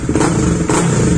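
A Supra GTR 150 motorcycle engine fitted with an MVR1 racing ECU revs in a brief, loud, close burst of throttle, a rough mid-pitched roar with a slight dip midway.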